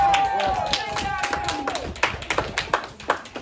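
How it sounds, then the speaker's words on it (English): A small crowd claps at a football player's National Letter of Intent signing, scattered individual claps standing out sharply near the end, with people talking over them. "Give a round of applause."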